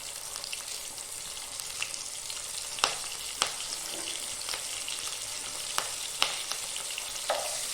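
Garlic, ginger, green chilli and curry leaves fry in hot oil with a constant crackling sizzle, broken by several sharp scrapes and taps from a stirring spoon. There is no talking.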